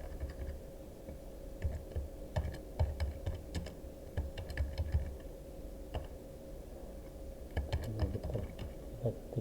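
Fingers type on a computer keyboard in irregular bursts of light clicks and taps, fairly close, over a steady low background hum with no speech.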